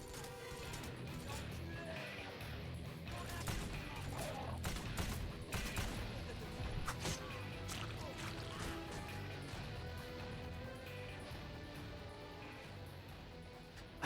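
Gunfire from the video game Wanted: Weapons of Fate, with a sniper rifle in play: repeated sharp shots and crashes over a dense, noisy action-game background for several seconds.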